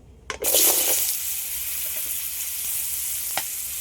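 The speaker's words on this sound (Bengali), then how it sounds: "মাছ ভাজা তেলের মধ্যে আলুগুলো ভেজে নেবো" Potatoes frying in oil previously used for frying fish, a steady loud sizzle that flares up at the start and hisses on continuously, with a faint clink near the end.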